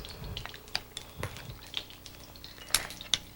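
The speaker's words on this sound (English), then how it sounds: "Because this has cornstarch, we want to be sure to stir the shrimp" Shrimp coated in cornstarch stirred in a bowl with a utensil before going into a wok, a quiet series of close clinks and taps at irregular intervals with soft scraping between.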